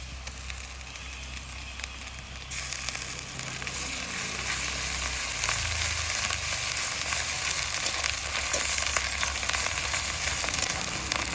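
Garlic and ginger paste frying with onions in a pan, a loud continuous sizzle that grows stronger partway through, with occasional crackles and scrapes and no voices.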